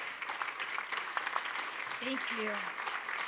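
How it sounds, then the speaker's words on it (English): A round of applause from a conference audience for panel speakers, with moderately loud, dense clapping that runs throughout while a speaker's voice briefly comes through near the end. "Please make a round of applause."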